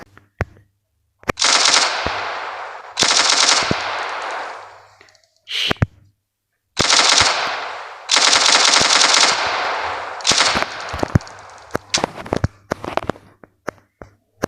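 An Uzi submachine gun fires in a video game in loud, rapid bursts of several seconds each, separated by short pauses and scattered single shots.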